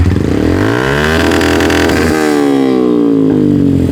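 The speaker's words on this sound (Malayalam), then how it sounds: "ഈ സൈലൻസർ നിങ്ങൾ വാങ്ങിയപ്പോൾ ഉള്ള സൈലൻസർ അല്ല ഇത് രണ്ടാമത് ഓൾട്ടർ ചെയ്തിരിക്കുക ഇത് എക്സസീവ് സൗണ്ട്" Motorcycle fitted with an altered, loud aftermarket silencer revving hard nearby, the engine note climbing and falling through a couple of throttle blips, loud and raw throughout.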